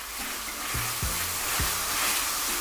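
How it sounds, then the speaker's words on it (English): Red chili, turmeric and salt frying in hot oil for a chicken curry, giving a steady broadband sizzle throughout with a few soft clinks and stirring knocks, close and alone without talk. "We were looking for that sizzle."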